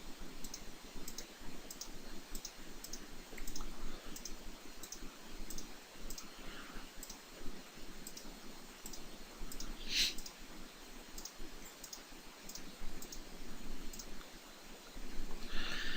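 A computer mouse clicks steadily while someone works in Photoshop, a long run of quiet, evenly spaced clicks close by over faint background hiss, with no speech.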